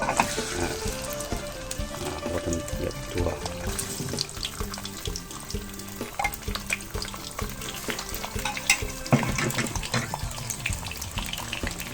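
Fermented Isan fish, pla som, fries in hot oil with a continuous loud sizzle, punctuated by clinks and splashing sounds like stirring or a running tap.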